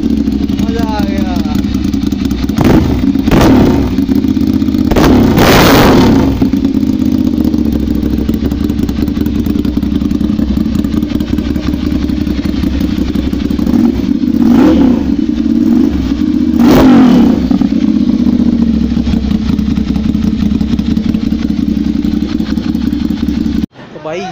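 Superbike engine, among bikes such as Hayabusa, Harley Davidson, Ducati and CBR in Karol Bagh, New Delhi, idling with a loud steady drone and several sharp revs rising and falling, close by with clatter and a sudden cutoff.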